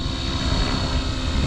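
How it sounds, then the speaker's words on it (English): An RC helicopter flies backwards into roughly a 10 mph wind, its rotor and motor giving a steady close whirring drone blended with wind rumble. "Now I'm gonna pull it backwards and see how the tail responds."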